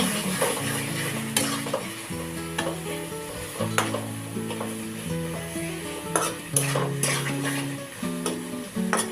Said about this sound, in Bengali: এবার সেই মশলা ধোয়া জলটা দিয়ে দিলাম। ভালো করে মিক্স করে নিব।